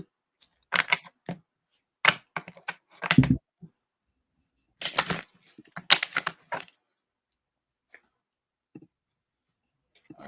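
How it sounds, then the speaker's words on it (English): Tarot cards are shuffled by hand in short, crisp riffling bursts separated by pauses. The soft papery clicks stand alone, with no talking over them. "let's shuffle the cards in again."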